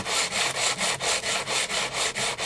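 Wet silicon carbide wet-and-dry abrasive paper on an old bead block, rubbed in steady back-and-forth strokes with light pressure, making a rhythmic rasping swish about four strokes per second, close and alone.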